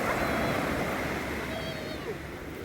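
Sea waves rolling onto a beach in the evening, a broad continuous roar of surf with wind rumbling against the microphone and no distinct breaks between waves.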